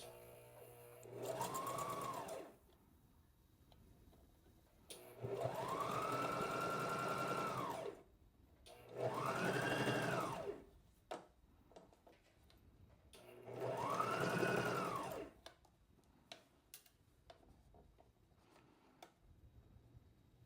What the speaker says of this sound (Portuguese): agora eu vou continuar a costura aqui, deixando a margem de 1 centímetro